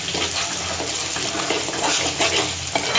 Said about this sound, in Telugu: ఆయిల్ బాగా ఇలా ఫ్రై అయితే చాలా బ్యూటిఫుల్ ఉంటుంది